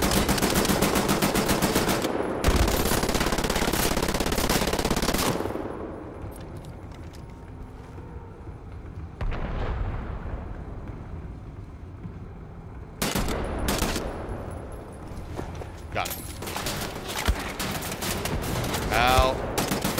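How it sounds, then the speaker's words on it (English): Machine gun fire in the video game Wolfenstein comes as loud sustained bursts, then a lull with scattered shots before more heavy automatic fire resumes, with someone shouting over it. "one of them has the machine gun"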